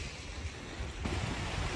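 Sea waves wash steadily onto the seashore at a halfbeak fishing spot, a soft, continuous surf hiss heard faintly with no talking.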